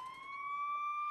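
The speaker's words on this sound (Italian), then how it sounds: "Deve essere fantastico guidare il camion dei pompieri con la sirena accesa" A cartoon fire truck's siren sounds as one steady, rising electronic wail, clear and alone, with no voices over it.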